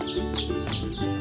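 A sooty-headed bulbul (trucukan) at a bird market gives a few quick, bright chirps in a rapid sequence, close and fairly loud against a busy background.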